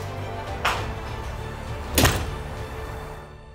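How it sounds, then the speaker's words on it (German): A door is shut twice, the first a softer thump and the second a heavier, louder thud, both close by against a steady background hum. "dann macht ihr mal hier noch die Tür zu"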